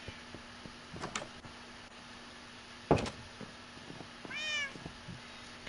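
A cat meowing in Minecraft, one clear rising-and-falling meow near the end, preceded by scattered clicks and a sharp thump, all fairly quiet against a faint steady hum.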